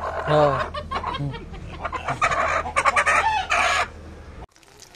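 Several chickens on a farm cluck and squawk close by in a busy, overlapping chorus, with some louder drawn-out calls, before it drops to near quiet at the end.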